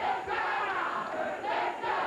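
A Memphis wrestling crowd at a 1989 CWA event cheers in swelling waves of roaring voices, loud and continuous, rising and dipping without any single speaker standing out.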